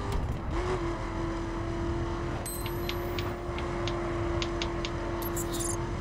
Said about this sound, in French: Accélère, accélère.